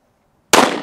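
A single sharp 9mm pistol shot fired into a stack of fiberboard, one loud close crack bursting out of silence and ringing briefly.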